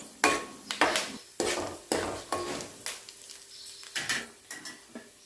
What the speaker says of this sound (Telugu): ఇప్పుడు హాఫ్ టీ స్పూన్ ఆవాలు హాఫ్ టీ స్పూన్ జీలకర్ర వేసుకోవాలి